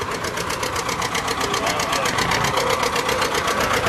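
A Ford Diesel 6000 tractor engine runs at a steady rapid chug at a steam rally, with a dense rhythmic knock and ticking that hold an even pace throughout at close range.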